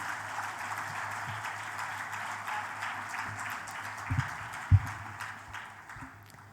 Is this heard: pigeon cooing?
no